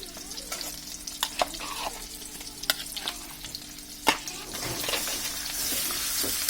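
Marinated chicken meat for chicken korai gosht frying in oil over high heat, a steady close sizzle broken by sharp scrapes and clanks of stirring, the frying growing louder and fuller toward the end; no talk.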